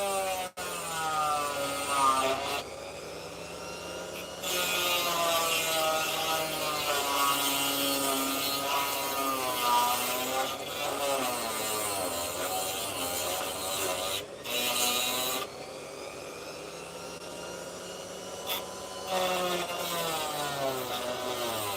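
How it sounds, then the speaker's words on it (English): A cutting blade grinds through sand and opal rough, a harsh, steady scraping whine that runs almost unbroken for over twenty seconds, dipping briefly a few times, with no talking. "when the sparks fly, that means that I'm hitting opal with this blade"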